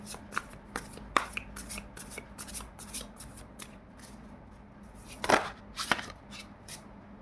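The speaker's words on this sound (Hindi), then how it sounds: "तो चलिए अभी हम दो कार्ड और ले लेते हैं।" Tarot cards shuffled and drawn by hand in a quiet room, a steady run of soft papery riffles and flicks with a couple of sharper snaps as cards are pulled, close and fairly faint with no talking.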